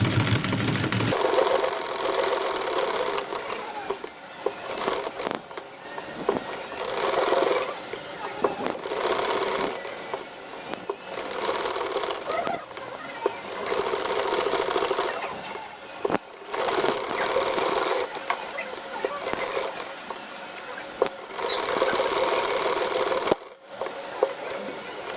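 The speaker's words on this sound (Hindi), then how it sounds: "चलिए अब हम सिलाई लगाते हैं।" A sewing machine stitching a neck design on fabric, running in repeated bursts of rapid mechanical whirring separated by short pauses, close and moderately loud, with someone talking at times.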